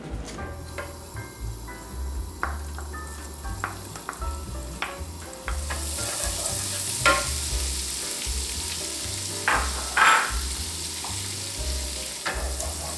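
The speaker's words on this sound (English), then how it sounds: "Saute until the garlic turns slightly yellow" Chopped garlic sizzles steadily in a pan of heated olive oil and butter, with soft scraping and stirring clatter throughout. The frying grows a little louder partway through.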